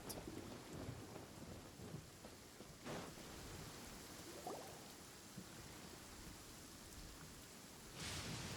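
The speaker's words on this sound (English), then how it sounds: "Oh no, it's raining!" Rain and thunder in the video game Genshin Impact, a constant hiss of rainfall with low rumbling throughout and a louder thunder swell near the end, no voices.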